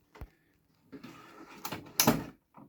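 A wooden drawer from a Babymax Alaska changing-table dresser is pushed into its runner guides, giving a sharp knock, then a sliding rumble, and a louder thud as it seats. The sounds come close, in short bursts.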